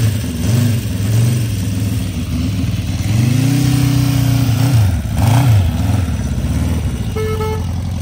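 A restored 1973 Honda CB350Four motorcycle with a rebuilt engine runs close by, its four-cylinder note rising and falling through several loud revs over a steady idle, with a brief higher tone near the end.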